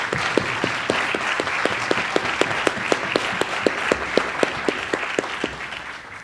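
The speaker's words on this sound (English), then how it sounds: "Will you please join me in a round of applause?" Audience at a university fall awards ceremony gives a round of applause, steady crowd clapping throughout with one sharper, distinct clapper keeping a regular beat close by, no talk over it.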